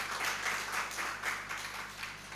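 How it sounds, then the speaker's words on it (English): Moderate applause from a crowd at a Ugandan forex bureau association's 25th anniversary ceremony, a pulsing wash of clapping that rises and falls in soft waves, somewhat distant and without speech. "Can we give him a big, big round of applause?"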